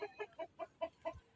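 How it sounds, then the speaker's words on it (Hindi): A hen clucks in a steady rhythmic series of about seven short, evenly spaced calls, close and clear, with no talking over it. "बहुत तेज़ मुर्गी है"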